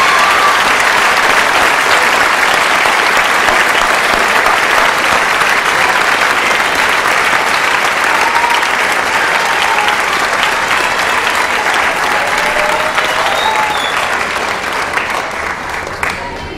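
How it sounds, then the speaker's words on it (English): Sustained applause from a large audience fills the space, a dense steady roar of clapping that holds for many seconds before easing slightly at the end. "Please give a round of applause for these students in front of you"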